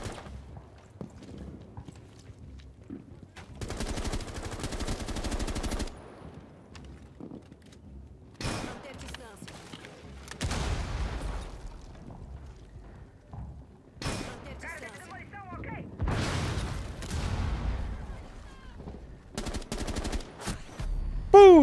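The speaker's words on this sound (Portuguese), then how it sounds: "Não sei de onde veio esse tiro." Gunfire in Rainbow Six Siege, including a 12-gauge shotgun, crackles in bursts of automatic shots and sharp single blasts between quieter stretches of footsteps and movement, with players talking over the action.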